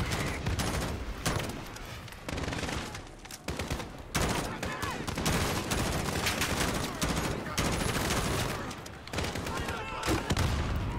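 Sustained gunfire from the Call of Duty Modern Warfare 2019 campaign, dense bursts of rapid shots and booming blasts filling the whole stretch at close range, loud throughout, with voices occasionally mixed in beneath the battle.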